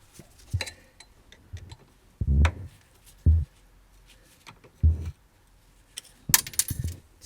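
Metal pins tapped and popped out of a lever on a Nissan 200SX S13 in a garage, giving several sharp isolated clicks and knocks spaced about a second apart, with a brighter metallic jingle near the end.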